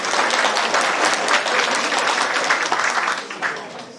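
A crowd applauds with dense, continuous clapping at the inauguration of a village cultural center in Romania, fading slightly toward the end.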